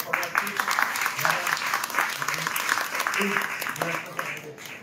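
Students clap together in a steady, dense round of applause at a school talk on Sundarbans wildlife, with a voice carrying over the clapping.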